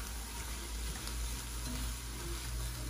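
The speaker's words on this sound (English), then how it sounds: "So I'm gonna add my 2 cups of rice, and I'm gonna mix it in here a little bit." Two cups of rice stirred into a pot of seasonings for carne guisada, giving a steady, even sizzle and soft scraping that runs unbroken from start to finish.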